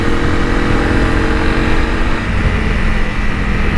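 A loud Honda CRF 300 Rally motorcycle engine revs up close, a steady throaty roar that holds high throughout with no talking.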